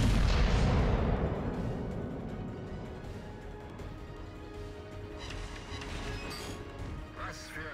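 A heavy battleship cannon blast in the video game World of Warships, from the Montana, booms at the start and rumbles away over several seconds, leaving a low, noisy roar of battle.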